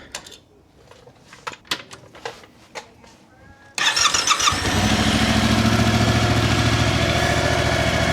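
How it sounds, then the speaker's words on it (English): Stock-exhaust Yamaha R7 motorcycle starting with a brief clicks-and-crank, then settling into a steady, fairly soft idle that runs alone without talk. "everybody and their mama knows that the stock R7 exhaust is very quiet"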